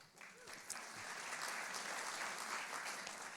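An audience at an evening church gathering breaks into steady applause, a dense wash of clapping that builds quickly and holds for several seconds.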